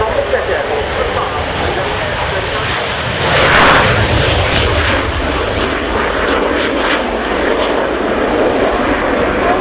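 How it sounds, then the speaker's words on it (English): A Czech Air Force Gripen fighter jet takes off for its display at the RIAT air show at Fairford in 2017, its steady, loud engine roar swelling near the middle and blending with broad outdoor rumble and wind. "rolling now from the right to start the flying display at Riat 2017 from the Czech Air Force"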